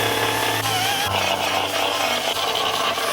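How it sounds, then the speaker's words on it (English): A small belt sander grinds seam sealer off the rusty slam panel of a Mk2 Ford Escort. It makes a loud, continuous abrasive whir with a low motor drone and a shift in pitch partway through. "use this little belt sander to get rid of all this seam sealer"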